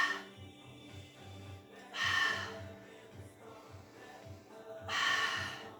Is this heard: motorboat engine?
no